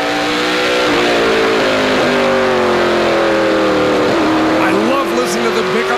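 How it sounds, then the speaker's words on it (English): A Dodge race car accelerating hard down a racetrack straightaway, its engine a loud, sustained roar whose pitch climbs steadily with a brief shift-like dip, while a commentator talks over it. "Listen to them pick up the throttle of this racetrack because you don't have to feather it"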